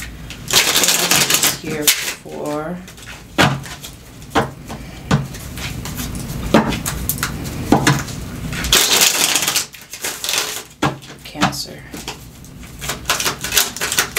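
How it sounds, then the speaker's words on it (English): Tarot cards are shuffled by hand in quick, crisp riffling bursts and clacks that come in irregular clusters, mixed with a person talking at close range. "I feel like I gotta shuffle that again for some reason."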